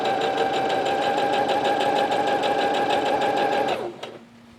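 A sewing machine runs continuously, stitching elastic onto overalls with a fast, even mechanical whir and rapid needle pulse for nearly four seconds, then stops abruptly, leaving a faint hum.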